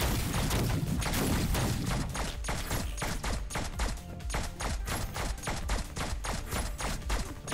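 Explosions in the video game Neon Abyss form a rapid, steady run of loud, sharp blasts that keep going without a break.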